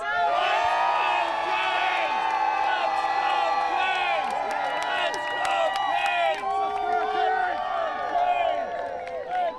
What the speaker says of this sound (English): we've got the chants going already